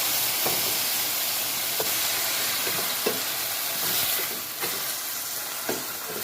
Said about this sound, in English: So I'm gonna steam these a little bit, and I'm gonna add a little bit of coconut milk to help it to cook.